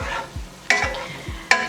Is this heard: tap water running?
no